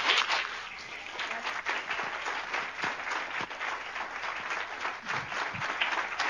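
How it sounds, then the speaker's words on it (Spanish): An audience in a hall applauds after a talk about the moons of the Solar System, a steady, fairly distant wash of many hands clapping that continues throughout. "Un gran aplauso, por favor, por su exposición."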